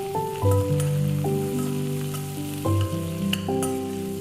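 An upma tempering of ginger, onions, green chilli and curry leaves crackles and sizzles in a pan under loud sustained musical tones, with occasional sharp pops and stirring clicks.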